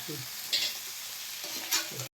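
Mutton pieces frying with onions in a pan for a pepper dry dish, a soft continuous sizzle broken by two brief louder scrapes of stirring, close and fairly quiet, ending abruptly.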